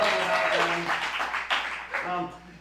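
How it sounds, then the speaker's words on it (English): Audience applause fills a duo improv show at Unexpected Productions' Market Theater, a dense wash of clapping heard close and loud with voices sounding over it throughout. "let's give a round of applause also to our bartenders, Bill and the crew out there"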